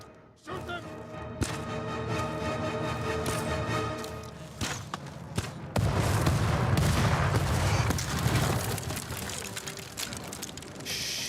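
Video game combat with steady rattling gunfire and sharp impacts, a dense roar of blasts building midway as explosives go off, loud and continuous throughout.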